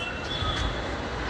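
A train at Howrah Junction railway station in India rumbles steadily, with a faint wheel squeal in a wide, continuous roar of station noise.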